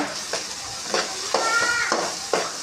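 Chili powder and salt sizzle in hot oil for a green gram kulambu, a soft, constant frying hiss broken by about six scraping strokes of a spoon against the pan.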